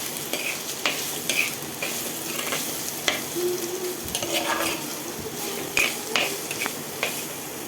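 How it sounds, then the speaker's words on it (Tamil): Ginger garlic paste sautéing in sesame oil for a prawn thokku: a steady close sizzle broken by repeated scraping stirs of a spoon against the pan, with no talking. "இஞ்சி பூண்டு பச்சை வாசனை போகிற அளவுக்கு நல்லா வதக்கி விட்டுறணும்."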